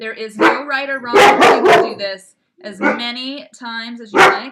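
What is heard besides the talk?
dogs barking in the house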